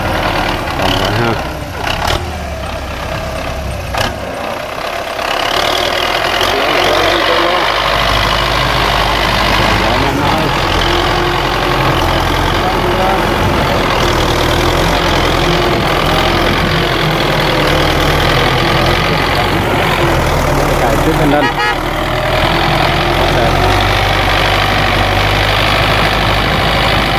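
A Belarus 825 tractor with its 4.7-litre Belarus diesel engine idles steadily and loudly throughout, a continuous low rumble with people talking over it.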